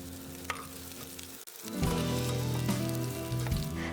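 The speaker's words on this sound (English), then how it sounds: "when the oil is warm, I'm going to add 1 green chili finely chopped and ½ inch of ginger juliennes." Finely chopped green chili and ginger juliennes tipped into warm oil for a mixed bean and vegetable soup, a brief clatter and then a sudden loud, sustained sizzle that fills the rest of the clip.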